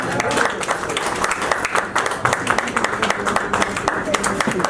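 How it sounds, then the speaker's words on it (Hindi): A crowd welcomes a guest at a Women's Day charity event with brisk, loud clapping that runs throughout, with voices talking over it. "जोरदार तालियों के साथ स्वागत करेंगे।"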